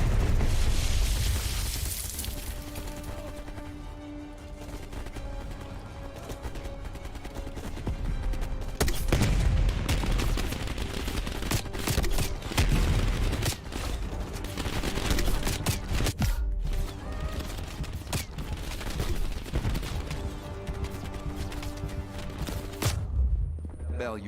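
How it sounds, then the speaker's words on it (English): A dense video game firefight with a grenade launcher keeps up a constant barrage of booming explosions and rattling gunfire, loud and continuous throughout. Voices may be buried in the din. "You readied a grenade launcher and charged ahead."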